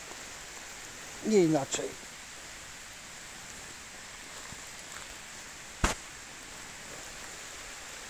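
Heavy rain falls in a forest during a September 2022 bolete mushroom hunt, a steady faint hiss throughout, with someone speaking briefly near the start and a single sharp click later.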